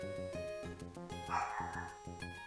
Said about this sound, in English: this dog is not stopping, is she?